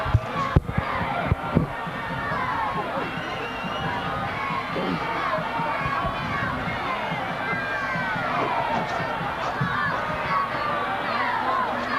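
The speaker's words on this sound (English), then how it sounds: "There you can see some of the Warrior cheerleaders cheering on their guys" Crowd and Warrior cheerleaders cheer at a 1999 Winton Woods vs. Fairfield high school football game, a dense, steady roar of shouting voices and high chants that continues throughout, with a few sharp claps near the start.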